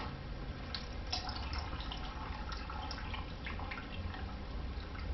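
Water trickles and drips out of a layered rock and charcoal filter after slow pouring, a quiet steady run of small drips and splashes with no talk.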